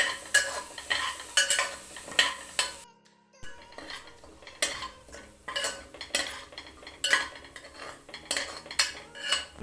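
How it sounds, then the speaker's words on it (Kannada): Spiced ground masala paste sautéed in a pan with curry leaves for a vegetable pulao, with repeated scraping and clinking of a metal spoon against the pan in bursts, a short pause, then steady stirring over a faint background sizzle. "ಮಸಾಲೆ ರುಬ್ಬಿರೋ ಪೇಸ್ಟನ್ನು ಹಾಕ್ತೀನಿ ಹಾಕಿ ಚೆನ್ನಾಗಿ ಇಲ್ಲಿ ಬಾಡಿಸ್ಕೊಳ್ಬೇಕು"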